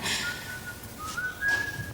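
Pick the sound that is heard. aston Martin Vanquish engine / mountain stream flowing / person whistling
person whistling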